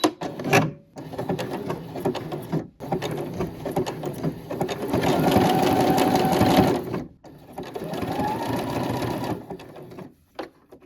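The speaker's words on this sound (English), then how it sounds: "I'm using this Brother FS40, which is kind of new to me." A Brother FS40 sewing machine stitches a baby onesie in loud, steady runs of needle hum, broken by short pauses between bursts and a faster stretch in the middle, with no talking.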